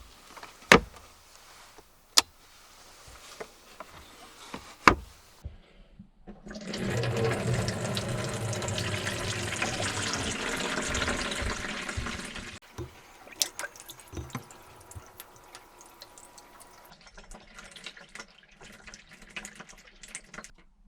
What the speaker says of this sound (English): turning off the pump and draining the water from the taps